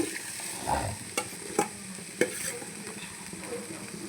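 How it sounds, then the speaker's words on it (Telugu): Vegetables fry lightly in butter for a sandwich, giving off a soft, low-level sizzle in the pan with intermittent stirring taps and scrapes, heard close and without speech. "బటర్ ఇందులో అన్నీ వేసేస్తానండి. కొద్దిగా లైట్ ఫ్రై చేస్తా"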